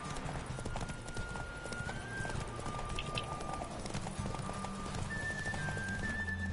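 In The Witcher 3, a horse gallops with rapid, steady clip-clopping hooves across the ground, moderately loud with game ambience beneath.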